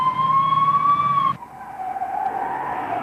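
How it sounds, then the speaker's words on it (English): A police car siren wails close and loud, holding a steady tone before dropping abruptly into a lower, shifting wail. "The flashing lights, together with the siren, tell other motorists to move out of the way and allow the police car to pass safely."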